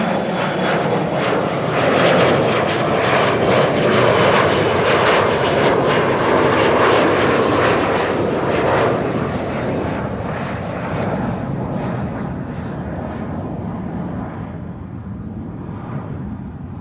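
Jet airliner bound for Düsseldorf at Amsterdam Schiphol Airport, a loud, broad continuous engine roar that builds, holds steady, then slowly fades as it moves away.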